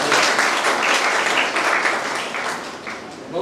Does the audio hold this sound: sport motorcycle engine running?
no